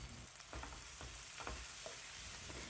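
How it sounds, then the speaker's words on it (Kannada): Okra, tomato and turmeric sizzle steadily in hot oil, with soft rhythmic scrapes of a spoon stirring the pan every half second or so, close and fairly quiet. "ಟೊಮೊಟೊ ಹಾಕಿದ್ಮೇಲೆ ಮತ್ತೊಂದು ಸಾರಿ ಚೆನ್ನಾಗಿ ಎಲ್ಲದನ್ನೂ ಎಣ್ಣೆಯಲ್ಲಿ ಮಿಕ್ಸ್ ಮಾಡ್ತಾಯಿದ್ದೀನಿ"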